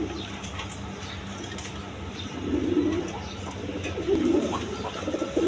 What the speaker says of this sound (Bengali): এখানে এক পেয়ার কবুতর আছে দেখেন, চাইনিজ আউল